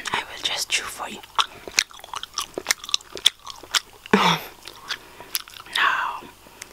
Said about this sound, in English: Then I will just chew for you.